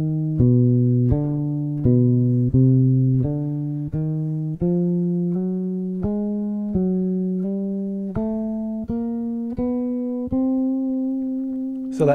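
A bass guitar climbs a slow chromatic line, one plucked note after another in an even rhythm, each note ringing clearly and set against a backing track.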